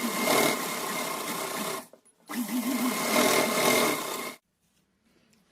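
A sewing machine stitches red brocade fabric onto its lining in two steady whirring runs, separated by a short pause and followed by quiet.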